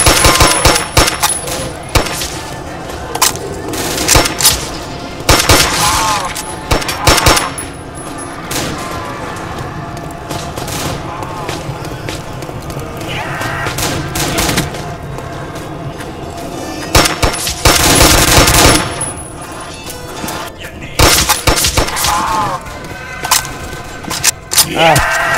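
Rapid bursts of Gewehr rifle fire in a Roblox Call of Duty Zombies game, loud repeated shots with booming impacts spread across the stretch, mixed with game sounds and a player's voice.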